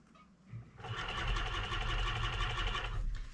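A sewing machine stitches a fur pelt close to its edge for a hunting muff, starting after a short pause and then running in a steady, fast, even whir until it stops.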